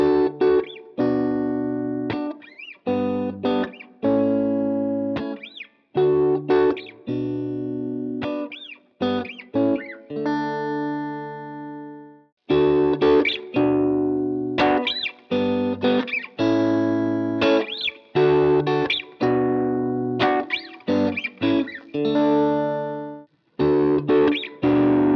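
An electric guitar runs through a Keeley TS808 overdrive into a Strymon Iridium set to its Deluxe Reverb amp model, playing a series of loud, sustained overdriven chords and riffs with short pauses between phrases.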